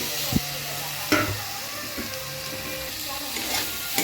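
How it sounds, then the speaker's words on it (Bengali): Garlic sautéing in a pan gives a steady sizzle and hiss, with a few sharp scrapes of a spoon stirring it, close and moderately loud. "এবার এটাকে আরেকটু কষাই, রসুনের গন্ধটা কেটে যাবে"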